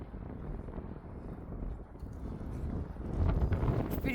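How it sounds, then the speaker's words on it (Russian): Strong winter wind at the Jurmala seaside buffets the microphone in a continuous low rumble, gusting louder toward the end. "Но, знаете, такой ветер сильный."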